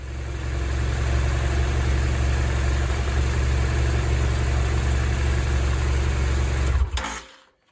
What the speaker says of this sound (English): we had the bike idling for some time now